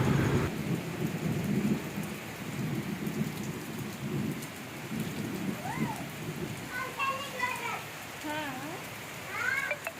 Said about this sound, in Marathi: खूप मोठा पाऊस पडत आहे